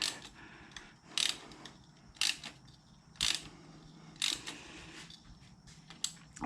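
A ratchet loosening a stubborn spark plug on a 2006-2009 Ford Fusion 2.3L engine makes quiet repeated clicking strokes, about one a second, under faint workshop background.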